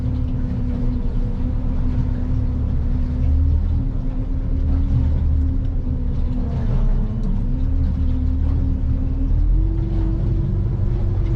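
A Stabicraft boat's outboard engine drones steadily on open water, its low hum rising slightly in pitch toward the end as it gathers speed, with rumbling hull and wind noise throughout and no talking.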